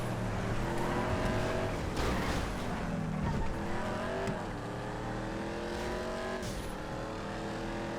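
Several 2014 race cars in a GTA FiveM race run together with engines revving and shifting in overlapping layers, loud and close, gear changes rising and falling throughout.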